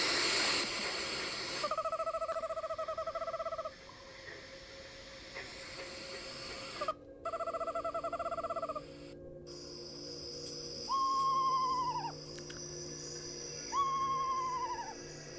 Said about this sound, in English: the video of the owl that lives behind my house screeching